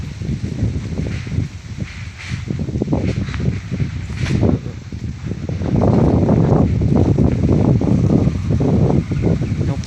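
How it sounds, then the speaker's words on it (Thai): Dry wind blowing outdoors, gusting and buffeting the microphone with uneven rumbling bursts that swell louder in the second half, mixed with light rustling. "วันนี้ก็ลมแห้งอีก"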